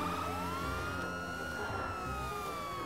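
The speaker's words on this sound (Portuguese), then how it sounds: "Agora eu vou ligar a sirene" A police car siren wails in the video game GTA 5, rising and falling tones sweeping steadily throughout at a moderate, somewhat distant level.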